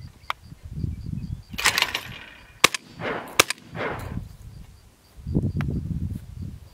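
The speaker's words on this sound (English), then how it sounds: "So gonna shoot some clays" A Browning Maxus Sporting Golden Clays shotgun fires at clay targets outdoors: two sharp, loud cracks a second apart amid wind rumble and handling noise, with a further muffled burst of rustle afterwards.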